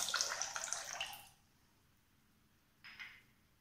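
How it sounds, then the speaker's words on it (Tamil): Milk splashes and trickles into a tub of water for a home pedicure for about a second, then quiet, followed by a brief second splash. "கொஞ்சம் வந்து பால் சேர்த்துக்கோங்க."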